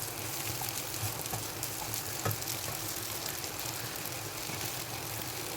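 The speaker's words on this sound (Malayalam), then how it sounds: "ഇനി കുറച്ച് ചില്ലി സോസ് ഒഴിച്ച് കൊടുക്കാം." Chili sauce poured into a hot pan of chicken noodles, giving a steady, dense broadband sizzle that holds at an even level throughout with no voices.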